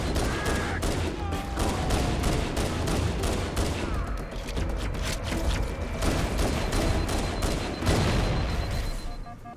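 Dense, sustained gunfire from Covenant stationary guns in Halo: Combat Evolved Anniversary pounds away without pause, rapid repeated shots layered into a loud continuous barrage with booming impacts.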